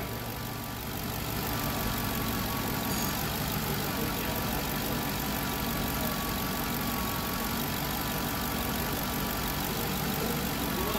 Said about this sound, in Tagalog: Ganda na talaga ang andar ng D8 na Crown Victoria, oh.